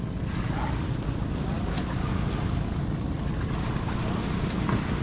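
A steady motorboat engine drones over rushing open water and wind buffeting the microphone, continuous and loud throughout, near Siargao.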